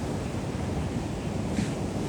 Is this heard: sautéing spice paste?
no